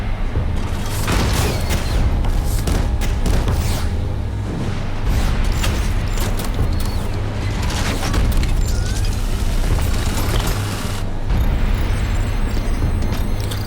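Weapon fire and explosions from The First Descendant video game form a continuous barrage of loud, booming blasts with rapid shots layered over a heavy rumble, sustained for the whole stretch.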